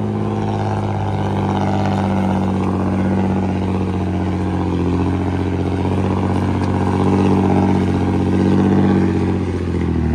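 A tractor engine revs hard while struggling along a slippery dirt road, producing a loud, steady, droning roar that holds for several seconds with slight swells in pitch.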